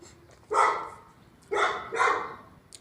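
A dog barks three times, close and clear, with a short gap after the first bark and the last two coming quickly together, and no talking over them.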